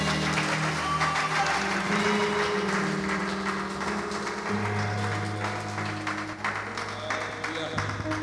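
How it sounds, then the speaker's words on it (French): A church congregation breaks into sustained applause and cheering to acclaim the Lord, a dense continuous wash of clapping with music droning underneath and a voice speaking over it. "est-ce que tu peux acclamer le Seigneur?"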